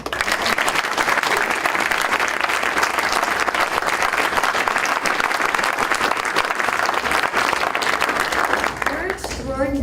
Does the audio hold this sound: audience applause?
yes